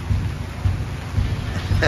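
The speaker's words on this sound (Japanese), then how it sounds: "雨ですな" Steady rain falls during a Japanese football supporters' day, a dense continuous hiss with low rumbling swells, loud and close throughout.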